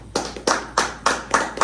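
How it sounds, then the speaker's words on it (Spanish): Applause in a podcast studio comes as a quick, even run of about six loud, sharp claps, close by and with no voices over it. "Y quiero que le demos un fuerte aplauso"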